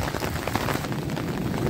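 Heavy rain pouring down steadily outdoors in America, a dense, even hiss of drops with no talk and no break in the downpour.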